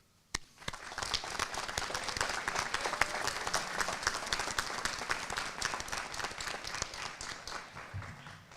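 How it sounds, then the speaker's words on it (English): Commencement audience for a medical school graduating class applauds, dense sustained clapping from a large crowd that starts abruptly and holds steady, with scattered louder claps and murmuring. "Class, I ask you to please join me in applauding and appreciating all of those who supported and helped you along the way."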